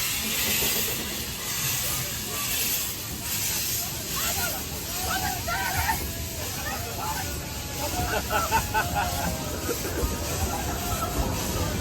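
A steam train on a model or heritage railway hisses steadily and fairly loudly, with a continuous broad wash of steam noise, while people chatter in the background.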